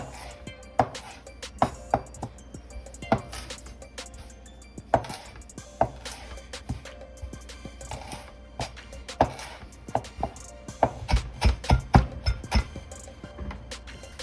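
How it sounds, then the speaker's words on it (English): A knife rough-chopping fresh parsley on a cutting board, sharp close taps in irregular bursts that speed into quick clusters near the end. "we're gonna do some rough cut on our parsley, just some rough chop"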